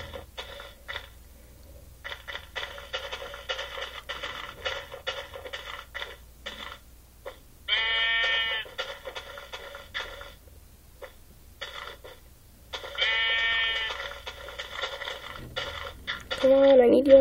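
Sheep in Minecraft Pocket Edition bleat in two short wavering calls a few seconds apart, over soft clicking game sounds and ongoing talk.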